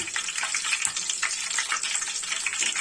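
Whole spices such as cloves, cardamom pods, bay leaf and cinnamon pieces fry in hot oil for a mutton biryani, giving a steady, close, bright sizzle with small crackles and no talk.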